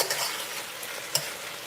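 A brief close burst of frying in a cooking pot, a continuous hiss of sizzling food with a couple of quick crackles or utensil scrapes, heard alone while okra and rice with stew fish is being made.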